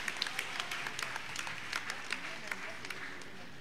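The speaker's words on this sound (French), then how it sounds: "On l'acclame très fort pendant qu'il arrive." A crowd at an anniversary celebration in Tanda, Côte d'Ivoire, claps for a parish priest's arrival, a continuous patter of applause from across the gathering under a voice speaking.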